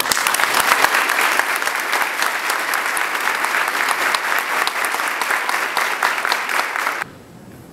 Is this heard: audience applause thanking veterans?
yes